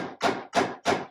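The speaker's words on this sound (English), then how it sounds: "just hammer them. That gets it just nice and flush, just like that." Three close, evenly timed hammer strikes drive wooden plugs flush while a rocker is assembled, each a solid woody thud that fades quickly into silence before the next.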